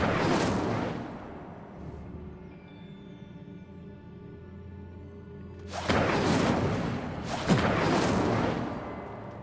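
The Incendio fire spell is cast in Hogwarts Legacy, with a loud, roaring burst at the start that fades into a ringing tail. Two more fiery blasts follow several seconds later, with no talking.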